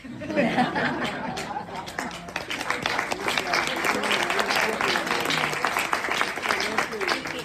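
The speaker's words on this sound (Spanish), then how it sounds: "El aplauso es para las infancias" Applause from an audience at an event on childhood and education, steady clapping running throughout with some laughter and murmuring voices mixed in.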